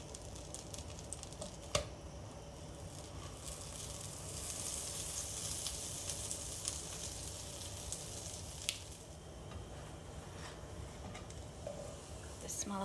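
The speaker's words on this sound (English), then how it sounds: "This needs to be warmed up in a non-stick pan with butter until both sides gets nice and golden" Lentil patties sizzle in butter in a non-stick pan, a steady close frying hiss with faint crackles and a few sharp utensil taps; a voice talks quietly underneath.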